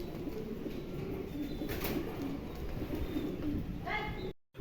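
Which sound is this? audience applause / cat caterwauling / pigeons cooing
pigeons cooing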